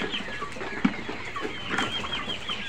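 Flock of colored bird chickens clucking and murmuring nervously nearby, a steady chatter of overlapping soft calls with one sharper cluck.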